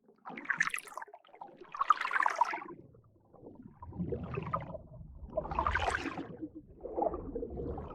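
Processed Overwatch-style water spell whooshes, a series of about five separate watery swooshes rising and falling with gaps between them, each airy and splashy, alone without speech.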